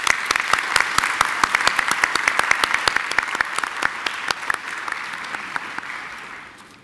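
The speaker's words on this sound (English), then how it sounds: "Ladies and gentlemen, please join me in giving them a round of applause." An audience at a university graduation ceremony gives graduates a long round of applause, with dense, steady clapping that eases off near the end.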